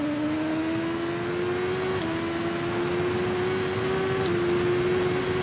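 A superbike engine in the TT Isle of Man 2 racing game holds a steady, loud high-pitched drone, dipping slightly in pitch as the rider lifts off and brakes, then climbing again.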